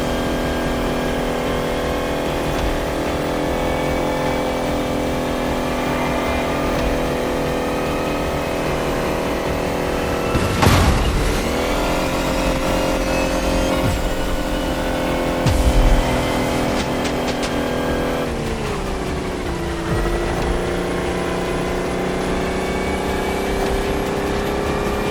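An electric car in The Crew Motorfest racing game accelerates hard, giving a continuous rising electric whine with sweeping pitch changes and a couple of brief bumps, loud and steady with no talk.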